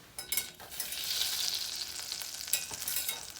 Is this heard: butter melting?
yes